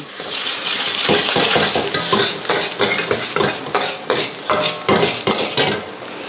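Scrambled egg being stir-fried in a pan for dry-fried shark fin, with a steady bed of sizzling under repeated clattering scrapes of a spatula against the pan, loud and close with no voices.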